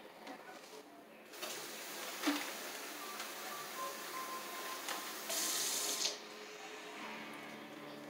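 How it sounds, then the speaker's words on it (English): Tap water runs into a plastic bag holding chicken wings and pomegranate tequila marinade, a steady quiet hiss with a brief louder gush near the end. "I'm just going to put a little water in the bag."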